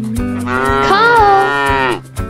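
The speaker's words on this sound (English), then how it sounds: "Cow." A cow moos once in a long, drawn-out call that rises and falls, loud and close over a steady rhythmic backing beat in a children's farm-animal learning song.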